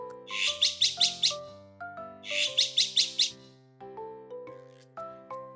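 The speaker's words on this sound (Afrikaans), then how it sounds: "'n Voeltjie roep na mamma bok." A small bird twitters in two quick bursts of rapid chirps, clear and near, over a gentle melodic backing.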